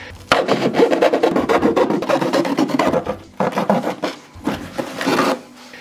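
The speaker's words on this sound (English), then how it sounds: "just use like a sawing motion and it just slices right through cardboard" Rapid rasping back-and-forth sawing strokes from a serrated blade cutting cardboard, loud and close, with a short pause before the strokes resume.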